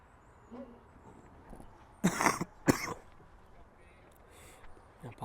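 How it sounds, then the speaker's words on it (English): A baseball commentator with a lingering cough lets out two sharp, loud coughs close to the microphone, with quiet background noise before and after. "still battling that KU cough"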